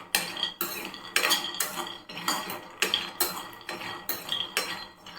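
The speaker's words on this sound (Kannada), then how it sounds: "ಇವಾಗ ಕಡಲೆಕಾಯಿನ ಸ್ವಲ್ಪ ಫ್ರೈ ಮಾಡ್ಕೊತಾ ಇದ್ದೀನಿ" Raw peanuts dry roast in a pan as they are stirred, giving a rhythmic, close rattling scrape that repeats about twice a second, with no talking.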